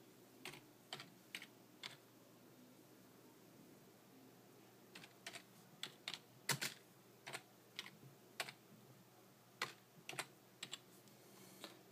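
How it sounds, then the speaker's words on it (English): Someone types on a computer keyboard in short clusters of light, close key clicks separated by pauses, over a faint low hum. "So I'm just typing the first question,"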